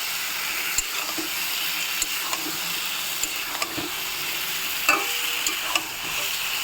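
Spice paste of cumin, chili, turmeric and coriander powders mixed with water, sautéed slowly in a pan with a steady soft sizzle and occasional stirring clicks of a spoon, no talking.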